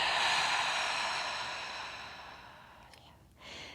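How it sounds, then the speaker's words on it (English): A long, soft exhale during a yoga session for sciatica and SI joint discomfort, a breathy airy hiss that slowly fades, followed by a short quieter breath near the end. "Take a deep breath in. Exhale out."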